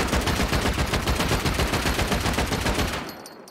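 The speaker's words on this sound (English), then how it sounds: "There's a specific spot you have to shoot the Explo ammo in order to raid a fence." Rapid, loud bursts of explosive ammunition fired at a fence in a survival shooter game, a dense continuous barrage of close shots that cuts off abruptly near the end.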